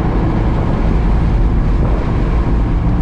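Abarth 124 Spider with a sport cat exhaust held at about 3000 RPM in fourth gear, producing a loud, steady, low drone with heavy rumble and no break throughout.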